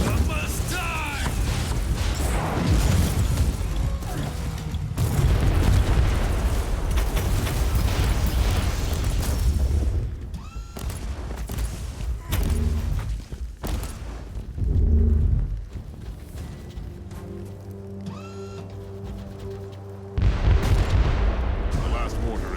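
Mortar artillery explosions in the Inquisitor Martyr action game, heavy booms and blasts recurring amid mechanical clatter and combat noise, some loud impacts standing out, with no talk over them.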